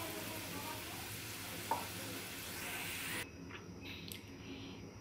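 Onions fried to a golden beresta sizzle steadily in a pan, a dense continuous hiss that drops in level partway through as the pan is handled, with faint clatter near the end.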